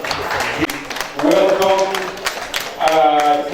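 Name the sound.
audience applause for the institute president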